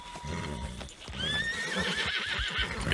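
A horse neighs in a long whinny over the steady clip-clop of hooves in a video game roleplay, the call rising and wavering above the rhythmic footfalls.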